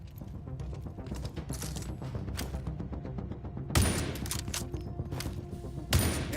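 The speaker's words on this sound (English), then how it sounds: "Let's see how you perform with a sniper rifle." Rifle fire in a video game shooting range, with a rapid clattering run of shots followed by two sharp, louder sniper-rifle cracks standing out over the game's background sound.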